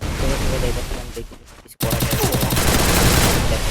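Loud, rapid bursts of automatic gunfire from a shooting video game fill the clip, briefly cut off by a sharp gap near the middle before resuming just as dense and continuous.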